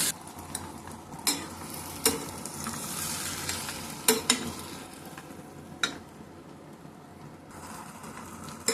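Tomato pickle with tamarind pulp is stirred in a pan over a quiet steady sizzle. A series of sharp utensil scrapes and clicks comes at irregular intervals.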